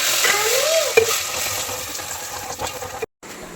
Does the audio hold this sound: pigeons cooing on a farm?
no